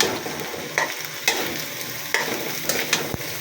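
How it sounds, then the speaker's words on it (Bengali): Pre-fried potato and meat tossed back into a hot pan for noodles hiss with a loud steady fry, broken by several sharp spatula scrapes and knocks. "আগে থেকে আলু আর মাংস ভাজি করা সেটা দিয়ে দিলাম।"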